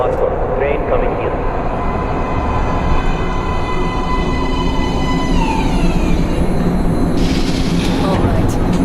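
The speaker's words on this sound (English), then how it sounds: "Please step away from the edge of the platform. Train coming in." A metro train pulls into an underground platform in Metro Last Light Redux, a loud, continuous rumbling roar of wheels and carriages with falling, squealing brake tones as it slows.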